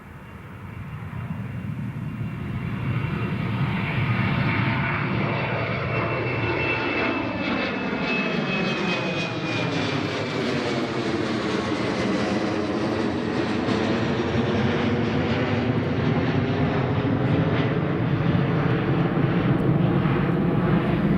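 An Air France airliner takes off at Newcastle Airport, its jet engines building into a loud, sustained roar that swells and holds steady for the whole stretch, with a rising whine threaded through the rumble.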